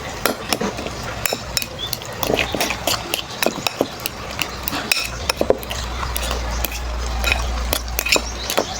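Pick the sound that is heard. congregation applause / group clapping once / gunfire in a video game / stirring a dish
stirring a dish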